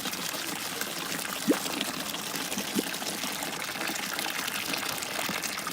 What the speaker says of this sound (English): This is the local hot spring water.